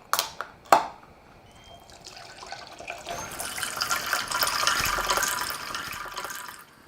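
Water pours into a pitcher while horchata is being made, with a couple of sharp clunks at the start and then a steady, rising rush of liquid filling the container, close and fairly loud.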